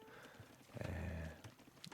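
A horse runs in the video game Age of Empires 2, heard as a soft clip-clop with a brief whinny-like swell in the middle, quiet under faint game background sounds.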